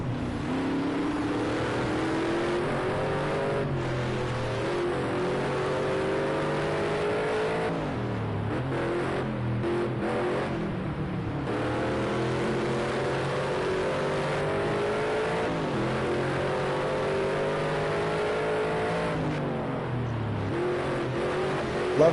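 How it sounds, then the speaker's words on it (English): Race cars lapping Ruapuna Park in Canterbury, engines howling loudly through rising and falling gear changes, with several revving climbs, brief lifts off the throttle and a sustained high-pitched drone throughout. "Love the sound of these cars."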